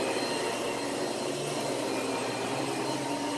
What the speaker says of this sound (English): You don't have to go slow with this vacuum to accomplish the same cleaning in one pass